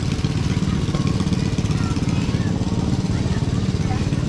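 A 1979 John Deere 317 riding mower refitted with a small Predator engine runs steadily at an outdoor old-time community fair, its low, even pulsing throb holding close by throughout.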